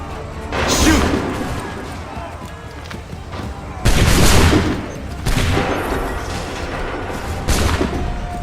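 Musket volleys in Assassin's Creed 3 Remastered: several loud crackling bursts of massed fire in quick succession, each followed by a rumbling tail, with battle noise and a voice or two beneath.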